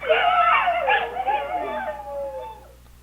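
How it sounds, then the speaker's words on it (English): Several overlapping dingo howls and yips, wavering and sliding in pitch, gradually fading over a few seconds. "This is a dingo."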